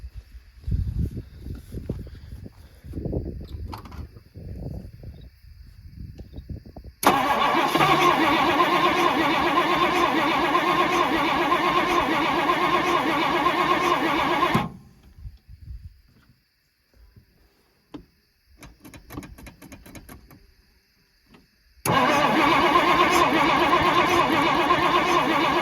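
A long-stored jet-age barn-find car engine being cranked in two sustained, loud, steady bursts of several seconds each, separated by a quieter pause with faint scattered noises.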